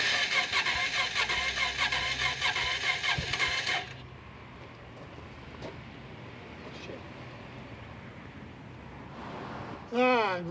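Honda XR650L motorcycle with fuel leaks, a loud broadband engine roar for about four seconds that then cuts off, leaving a quiet background and a brief burst of sweeping sound at the end.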